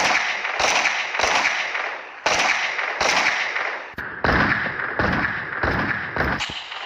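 Sharp gunshot-like blasts in an animated story come in a rapid series of about ten loud bangs, each followed by a short decaying tail, with no voices.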